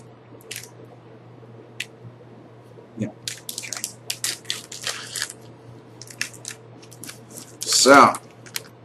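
A pair of scissors snipping open a foil trading card booster pack from a Magic M14 fat pack, with a scattered run of small crisp cuts and crinkles and a louder rustle of the wrapper near the end.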